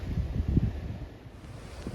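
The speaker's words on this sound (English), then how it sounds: "Very windy" Gusty wind on a UK beach buffets the microphone in low rumbling bursts, with a faint wash of surf behind.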